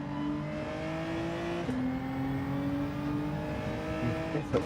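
Race cars in the Gran Turismo 7 video game drone steadily close behind, a continuous engine roar with shifting pitch and a short gear change partway, loud and without talk.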